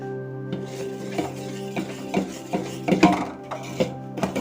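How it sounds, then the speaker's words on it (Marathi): Hot homemade jaggery is stirred in a pan off the heat, with irregular scraping and rubbing strokes of a utensil against the metal, close and steady, repeating over several seconds. "आपण गॅस बंद केलाय आणि गरम आहे तोपर्यंत याला सारखं हलवत राहायचं"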